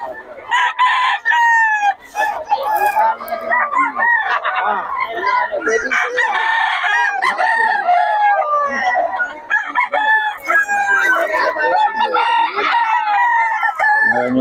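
Several roosters crow loudly and repeatedly at a poultry market in Bocaue, with overlapping cock-a-doodle-doos, clucking, and nearby people talking underneath.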